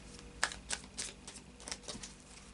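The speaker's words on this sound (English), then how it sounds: "Final shuffle now of the Lightseers Tarot." Tarot cards being shuffled up close, a few soft, irregular riffling clicks and flicks at a low level.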